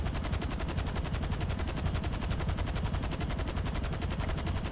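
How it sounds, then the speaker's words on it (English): Rapid automatic gunfire in GTA 5 Online, a steady, evenly spaced stream of shots that runs unbroken and fairly loud throughout, with no talking. "Somebody shooting at me?"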